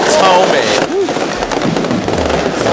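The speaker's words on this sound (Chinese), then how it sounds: "很大的烟火，超美" Large fireworks display during the Dajia Mazu pilgrimage procession, with loud repeated bursts and crackles in a crowded outdoor setting, a voice talking over the blasts.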